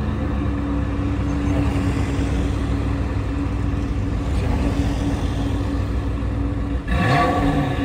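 An Italian sports car's engine holds a deep, steady rumble up close, then swells into a brief rev near the end; no one speaks.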